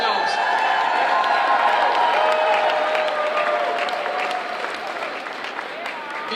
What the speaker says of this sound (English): You deserve a great applause for yourselves.